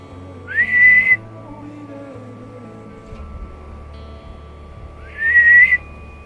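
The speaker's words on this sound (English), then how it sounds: "Someone just whistled." Two short rising whistles from a person outdoors near a fjord campsite on a cliffside in Norway, spaced several seconds apart over quiet crackling ambience.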